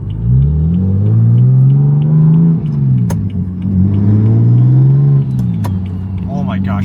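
A BMW F80 M3 fitted with an aftermarket IRP-style shifter revs hard up through the gears. The loud, close engine note climbs, dips sharply at each quick shift, then climbs again, with a few light clicks along the way.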